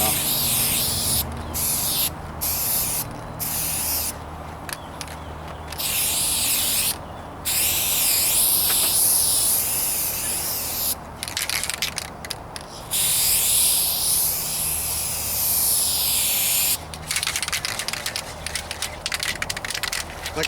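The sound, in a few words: rattle can spray painting first coat on car hood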